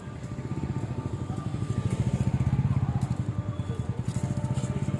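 A motorcycle engine chugs steadily nearby with a fast, even putter that swells slightly in the middle and holds on, over faint outdoor background noise.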